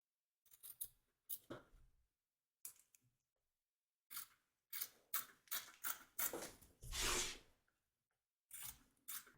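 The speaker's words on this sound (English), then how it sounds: "Trim away the excess batting from around the edge of the stitch line" Scissors trim excess quilt batting with a series of close, quiet snips and crunching cuts in irregular bursts, some short and some drawn out, separated by brief silences.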